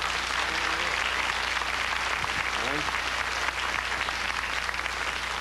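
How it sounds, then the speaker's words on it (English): Steady audience applause from a TV panel show studio, a dense continuous clapping wash holding at an even level throughout with no pauses. "Certainly deserves applause for that."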